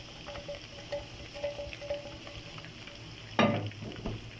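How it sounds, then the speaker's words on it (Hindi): Ginger-garlic paste and onion sizzle in a pan for mutton keema, a steady close frying hiss with soft stirring pulses, then a louder scrape or clatter near the end, and no talk. "अभी इसमें ये फ्राई मैंने इसमें पेस्ट डाला है एंड अदरक का और लहसुन का,"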